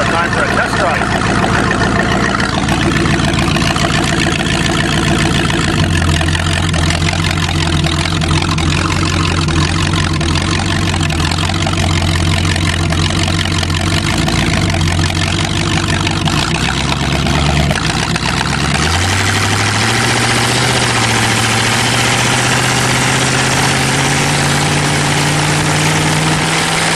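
A Cheviac engine with a rebuilt, modified four-barrel carburetor runs loud and steady, its low drone shifting pitch partway through as the throttle changes, with voices talking over it.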